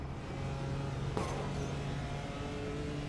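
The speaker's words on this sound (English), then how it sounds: "I love how the BMW sounds." BMW GT4 race car engine in a racing video game, a steady low drone with a brief sharp scrape or click midway, fairly quiet and alone.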